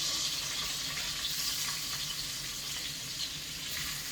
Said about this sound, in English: Okay, so now it's time to start adding the vegetables into the saute.